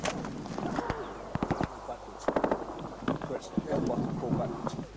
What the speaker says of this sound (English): As we call forward to join Bertie, the enemy open fire again, and their AK-47s have found a new accuracy.